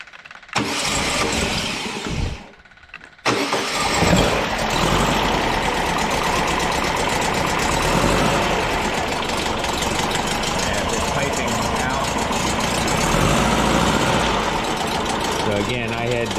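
A 1965 VW Beetle engine mounted on a stand cranks briefly, fires up and settles into a loud, steady, rough idle that runs continuously, close by, with a voice speaking over it.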